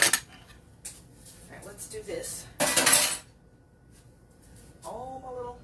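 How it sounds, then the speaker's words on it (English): Dishes and cutlery clatter in a home kitchen as they are loaded into a dishwasher, a few sharp clinking bursts close by with quieter pauses between, and someone speaks briefly. "All my little dishes into the dishwasher."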